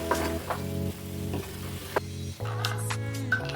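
Chicken pieces sizzling and frying in a pan with gravy, a steady close sizzle with occasional stirring scrapes, no voices.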